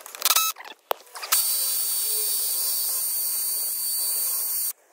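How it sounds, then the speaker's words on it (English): An aging drill set to hammer mode bores into plastic during outdoor lighting repair work, starting with a few short bursts and then running as a steady, loud, high-pitched whine for several seconds before stopping. "I'm just going to put it on hammer now, even though it's a positive rate drill, it is getting on a bit."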